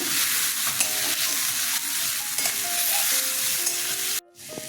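Potatoes fry in a pan with turmeric and cumin, giving a dense, steady sizzle with scraping stirs, close and continuous, briefly dipping near the end, with no talking.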